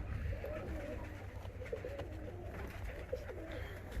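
Ornamental and costume pigeons coo softly in repeated low rolling phrases over a steady background hum, close and fairly quiet.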